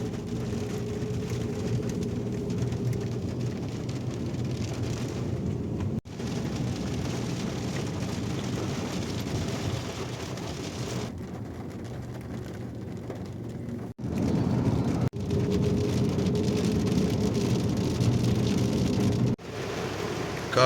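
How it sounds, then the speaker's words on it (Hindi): Heavy rain pours steadily outside a mosque in Malaysia, a dense continuous wash of noise with a low rumble beneath, holding at the same level throughout with a few brief dips and no voices. "लेकिन बारिश तेज है।"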